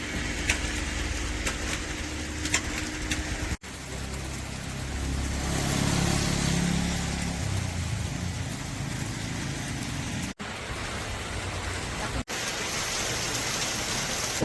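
Steady rain falls around a roadside food stall in a tea plantation in Sukanegara, West Java, a broad continuous hiss with a low rumble beneath and no voices.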